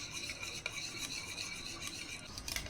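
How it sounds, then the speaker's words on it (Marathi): Homemade curd (dahi) being whisked until creamy in a bowl, a continuous soft scraping and swishing with a faint clink near the end, close and without any talk. "एकसारखं इथे फेटलं ना की छान क्रीमसारखं आपलं इथे दही होतं।"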